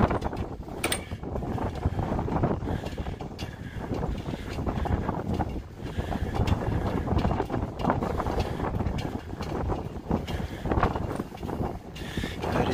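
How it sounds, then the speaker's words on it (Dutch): Strong, steady wind near the Westerschelde estuary at Graauw, Zeeland, Netherlands, buffets the microphone throughout, a dense low roar with gusty surges and no voices. "Er is hier veel wind, het is ook normaal"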